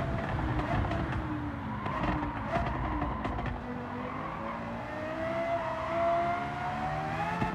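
Lexus LFA race car in Gran Turismo 7 lapping a circuit, its high-revving engine note rising steadily as it pulls through the gears, loud and continuous throughout.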